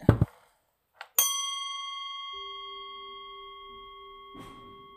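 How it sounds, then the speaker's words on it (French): After a couple of soft knocks, a single bell is struck once and rings out clearly, its bright tone decaying slowly over several seconds, ending with a faint thud. "je vais faire juste un son de cloche"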